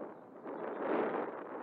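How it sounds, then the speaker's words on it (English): A brief, steady rush of wind buffets the microphone, swelling slightly before settling. "It is a bit windy for it."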